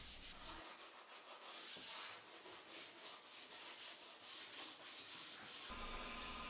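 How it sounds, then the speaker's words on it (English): Palm and orbital sanders work over the wooden parts of an outdoor bench, giving a steady, close abrasive rasp with rhythmic pulsing and brief pauses. "I'll use the palm sander on the curved surfaces and the orbital on the flat."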